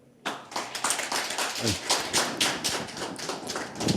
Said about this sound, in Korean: 우리 김철용 이사장님께 다시 한번 따뜻한 박수 좀 부탁드립니다.